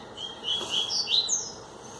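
A small bird sings a bright series of high chirps and trills, close and clear over a faint background hiss.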